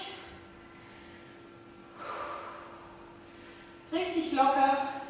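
Deep breathing while lying down to loosen up during an abs workout: a soft opening breath, then two more audible exhales, the last one loudest and most forceful, heard close over a quiet room.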